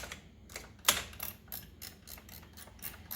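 A 1/4 inch drive ratchet runs a nut down onto a freshly anti-seized stud, giving a quick series of close, light clicking pawl ticks with one sharper knock near the start.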